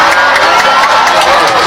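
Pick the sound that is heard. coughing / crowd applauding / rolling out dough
crowd applauding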